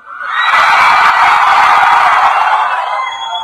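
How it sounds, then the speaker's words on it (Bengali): A crowd of students at a student festival shouts together at full volume, a dense sustained roar of many voices that swells quickly and holds for about three seconds before trailing off. "এবার তোমরা কত জোরে চিল্লাইতে পারো দেখি তো, যত জোরে"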